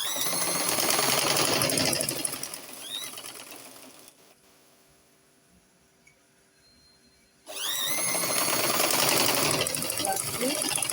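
A domestic sewing machine runs in two loud, steady bursts of stitching, back stitching while sewing a princess dart, with a quieter pause of faint handling between them.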